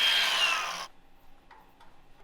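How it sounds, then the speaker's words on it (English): An angle grinder works over a fresh weld on metal, a loud, harsh burst for just under a second that cuts off sharply, followed by a quiet room with a couple of faint ticks. "I'll grind that a little bit."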